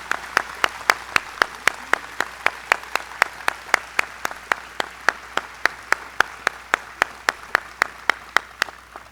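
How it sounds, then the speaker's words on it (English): Audience applause at a school commencement ceremony, heard as steady, evenly spaced sharp claps that keep a regular rhythm for about nine seconds with no talking. "Kathy and Mark, would you please stand so we can applaud your dedication and contributions to the school?"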